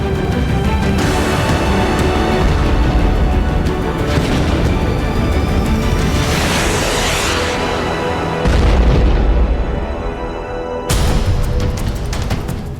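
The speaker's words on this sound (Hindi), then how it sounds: "यूक्रेन पर 70 मिसाइलें बरसी।" Missile strike explosions in Ukraine, a dense roaring series of deep booms and rumbling blasts, loud and continuous with sharper bursts near the end.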